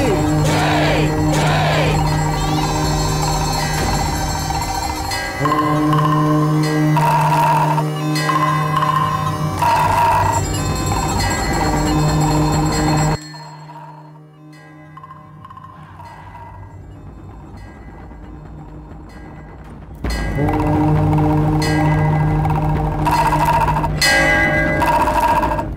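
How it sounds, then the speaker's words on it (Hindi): Temple bell and drum played during a prayer ritual: dense ringing metallic bells with pounding drum beats, loud and continuous, dropping to a quieter lull midway before the clanging resumes at full strength. "घंटी और नगाड़ा बजाओ"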